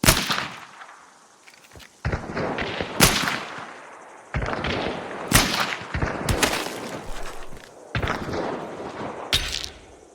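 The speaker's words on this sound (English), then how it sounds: "Just look at this Derringer headshot she hit this year." Gunfire in the video game Hunt: Showdown, with a Derringer pistol headshot among a series of loud, sharp cracks. Several irregular shots sound close and punchy against a rumbling game background.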